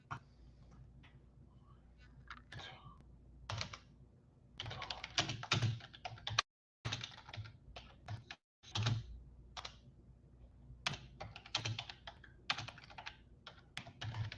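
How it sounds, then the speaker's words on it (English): Typing on a computer keyboard during a casual livestream hangout: rapid irregular bursts of clicky keystrokes with short pauses, close and fairly quiet, no speech. "If you hear me typing, stupid typo shit."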